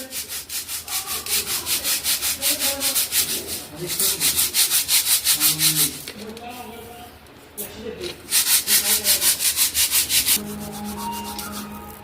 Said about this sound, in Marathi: सगळी डाळ ही अशी चाळून घ्यायची आहे आणि स्वच्छ करून घ्यायची आहे